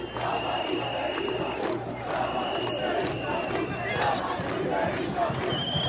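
Revolted citizens at an Albanian street protest, massed before a police blockade, chant together in a loud, continuous roar of many voices with rhythmic shouted pulses and no pauses.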